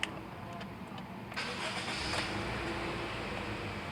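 Car engine cranked by the starter and catching, then running steadily at a close, moderately loud idle, checked with a diagnostic scanner.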